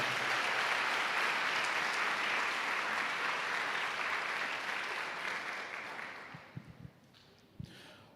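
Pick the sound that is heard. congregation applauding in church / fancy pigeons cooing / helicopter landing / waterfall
congregation applauding in church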